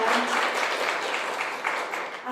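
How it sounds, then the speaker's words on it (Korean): Audience applause at a social economy policy forum talk show as a guest is welcomed, a dense, even clapping wash over about two seconds with faint voices underneath. "박수 부탁드립니다."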